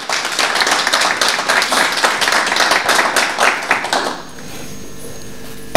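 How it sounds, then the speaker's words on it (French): A crowd claps and cheers for a Horizon 2023 official being introduced at a public event, loud dense applause that runs for about four seconds and then cuts off abruptly to near quiet. "Sous vos acclamations"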